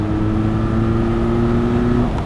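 A 2022 Benelli 502C motorcycle engine drones steadily as it accelerates in fourth gear, a smooth rising hum with a faint whine, close and fairly loud throughout.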